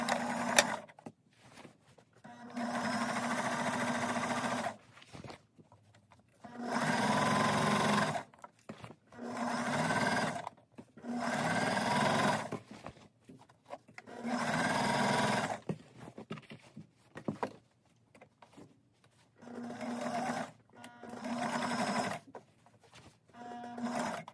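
A sewing machine stitches shorts cut down from long pants, running in repeated bursts of steady mechanical whirring a few seconds long, separated by short quiet pauses, close and moderately loud.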